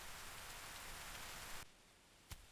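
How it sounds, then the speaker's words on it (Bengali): Steady rain pours down as a loud, even wash of hiss that cuts off abruptly partway through, leaving a faint quieter patter and one brief sharp knock. "মেঘ জমল, বৃষ্টি নামল।"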